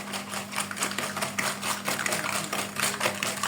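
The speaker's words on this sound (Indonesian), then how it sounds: "Setelah itu kita kocok sampai berubah warna dan sampai margarin itu benar-benar tercampur dan tidak bergerindil." Margarine mixture being beaten until it lightens in colour, a steady dense whirring and rattling that runs unbroken throughout with no talking.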